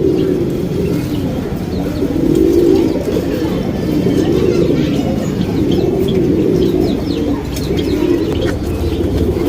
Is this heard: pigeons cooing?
yes